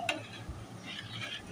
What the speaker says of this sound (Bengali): এবার হালিম বেড়ে নিচ্ছি।